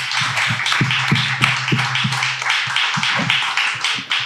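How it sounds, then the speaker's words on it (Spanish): A small group claps for Carmelo el Papilo, a quick run of sharp, fairly loud handclaps in an uneven rhythm over a few seconds, with a low steady hum underneath. "me gustaría desde aquí pues, dar un aplauso para Carmelo el Papilo,"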